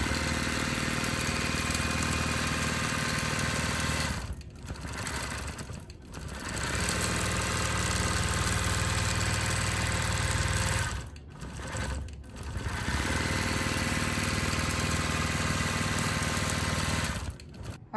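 A Gammill CS7 longarm quilting machine stitches a quilt with a loud, fast, steady mechanical whir up close, pausing briefly a few times before running on again.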